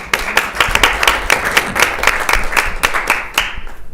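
A city council chamber audience applauds a water utilities group after a Drinking Water Week proclamation, with distinct close hand claps in an uneven patter that tapers off.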